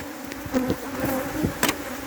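Bees buzz around hives at an apiary in Trinidad, with several close insects droning in short passes across a brief stretch.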